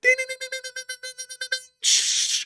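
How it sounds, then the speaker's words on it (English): Morse code message sent as a quick run of evenly spaced electronic beeps, about a dozen short tones in steady rhythm, followed by a sudden burst of harsh static-like hiss. "That's the Morse code message tonight."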